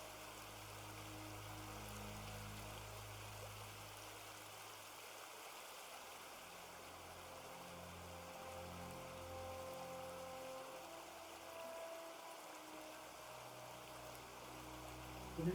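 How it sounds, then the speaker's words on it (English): Steady, quiet trickle of river water running continuously, a soft broadband wash with faint scattered droplet detail and no voices, heard from a short distance in an ambient fantasy-soundscape setting. "To the north, that kind of trickling river sound seems to be coming."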